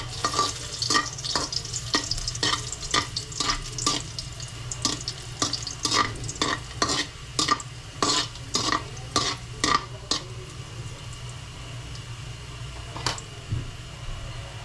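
Food frying in a large amount of cooking oil with a steady sizzle, while a utensil scrapes and stirs the pan in a quick series of sharp strokes close by that stop near the end.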